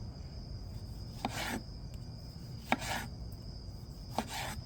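Three crisp knife cuts through small tomatoes, spaced about a second and a half apart, each a short slicing stroke against a board, close and clear over a steady background hiss with no talking.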